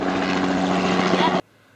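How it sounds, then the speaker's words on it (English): A helicopter flies over at a motorsport event, a loud steady rotor and engine drone close overhead that cuts off abruptly after about a second and a half. "You better be careful of these helicopters."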